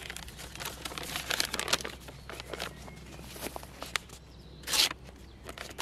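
Paper rustling and being crumpled by hand, a series of close, crisp crinkles and tearing-like bursts with pauses between them, fairly quiet and without speech.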